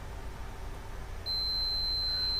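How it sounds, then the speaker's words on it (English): A digital multimeter set to continuity, probes touched together while checking a mobility scooter's wiring, gives one sustained high electronic tone that starts halfway through and holds steadily over a faint background hum. "I've already put it on continuity, so when I touch it together I hear an audible beep"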